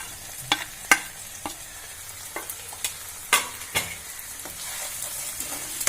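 Spices and chopped green chilli with turmeric and Kashmiri chilli powder are stirred in a frying pan for an Indian dal with eggs, a faint sizzle under sharp irregular scrapes and knocks of the spoon against the pan.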